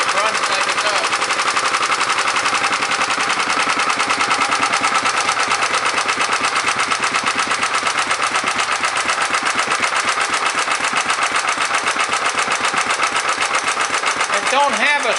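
A 1934 Briggs & Stratton Model A engine powering a Wall-Quincy air compressor chugs loud and steady under its governor, a fast unbroken firing rhythm that runs close throughout.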